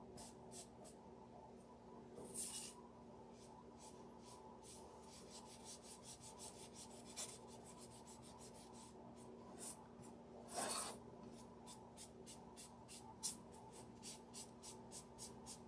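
A steady, soft scraping of paint being dabbed and rubbed onto a small DIY witch napkin holder, close up, with a few louder scuffs over a quiet hum.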